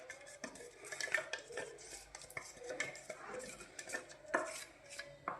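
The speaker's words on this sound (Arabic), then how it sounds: "وهقلبه" A spoon scrapes and clinks against a bowl as a liquid mixture is stirred into flour for anise biscuit dough, producing steady close-up scraping with scattered utensil taps and no talking.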